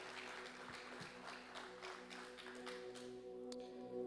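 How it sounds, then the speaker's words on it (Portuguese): A congregation at an evangelical youth church service applauds, a sustained wash of clapping over held keyboard chords from the church band. "Se você pode aplaudir a Jesus o mais alto que você puder novamente."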